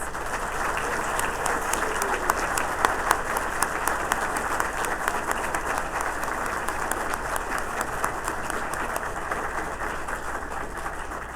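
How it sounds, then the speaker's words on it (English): At a fall 2019 university graduation celebration, the audience claps for the graduating students, a sustained, full burst of many hands with a few sharper individual claps standing out, steady throughout and free of speech. "Can we give all of our students a rousing round of applause?"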